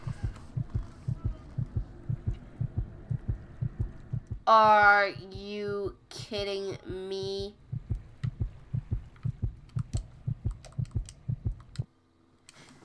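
The heartbeat effect from the Roblox game Before Dawn pulses as a steady, rapid low thumping that runs through most of the passage, with a person speaking briefly over a stretch in the middle.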